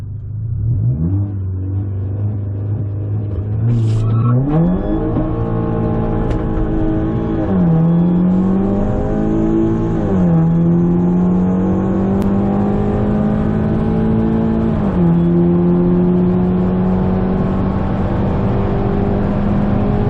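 A VW Golf GTI MK6 with an aftermarket intake, in sport mode, accelerating hard down a quarter-mile drag strip: loud, close engine note climbing in pitch through several gear changes, each shift dropping the tone before it rises again.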